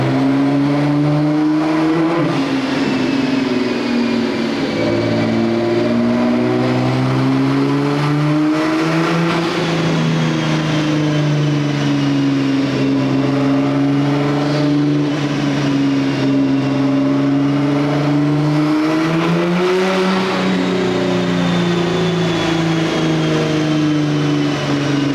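A tuned stage 4.25 Nissan GTR with an FBO setup revs hard on a dyno during a power run, its engine note rising and falling in long sweeping pulls, loud and close throughout with no talking.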